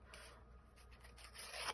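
Paper being torn by hand along a desk calendar page to make a rough border, a faint, continuous ripping rasp that swells louder toward the end, with no talking.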